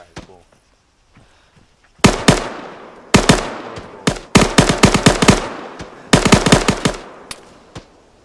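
Rapid automatic gunfire in a military video game rings out in several loud, close bursts separated by short pauses, after a quiet opening with no talk.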